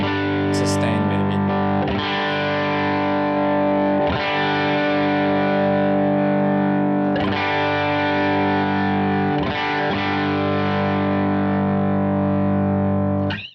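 Electric guitar runs through the LA Studio Comp compressor on a Line 6 HX Stomp XL, ringing sustained chords strummed a few seconds apart with a thick, slightly driven, effected tone, loud and close.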